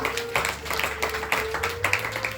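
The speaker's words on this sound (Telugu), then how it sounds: "గట్టిగా చప్పట్లు కొడదామా?" An audience at a Telugu Christian worship gathering claps in a steady, brisk rhythm, sharp hand claps repeating about every half second over a low sustained tone.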